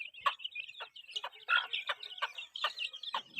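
A hen clucks nearby in a rapid series of about eight short, sharp clucks at an uneven rhythm, close and clear against a quiet background.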